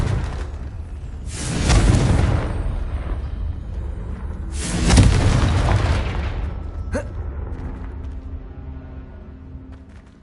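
Spell blasts in the Hogwarts Legacy video game, two heavy booming explosions with whooshing rumble about three seconds apart, loud and close, followed by a sharp crack and a fading tail.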